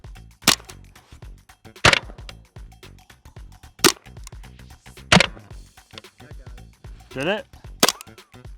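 .22 rounds fired at a Holosun 507comp red dot sight during a drop test: five or six sharp, loud gunshots spaced a second or more apart, with quieter clatter and a brief spoken question between shots.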